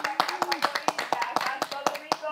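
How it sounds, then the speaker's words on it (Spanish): Applause for Angelita at a Christian family church gathering, sharp, distinct claps in a quick, fairly regular rhythm from a small group, close and crisp, with talking going on underneath. "Aplauso para Angelita."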